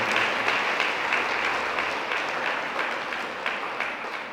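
An audience claps for award winners at a women's celebration event, a steady wash of many hands that stays fairly loud and slowly tapers off over a few seconds.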